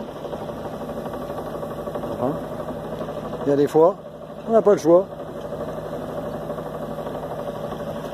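A sailboat's engine drones steadily while motoring along the coast toward an anchorage on a passage from Guaymas to Bahía Concepción, a constant mid-pitched hum as someone speaks French over it.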